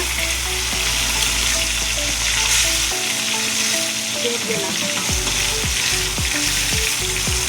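Koi fish fry in oil in a kadai, giving a steady, close sizzle and crackle throughout, with occasional stirring scrapes and a brief spoken remark.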